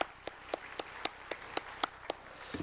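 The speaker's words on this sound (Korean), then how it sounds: "늘 수고하시는 6일 여전도회부터 63 여전도회까지 뜨거운 박수로 감사하십시다." A church congregation applauds in thanks during an early-morning Lent prayer service, with sparse, evenly spaced claps rising above a steady hiss, like a few hands clapping in slow rhythm.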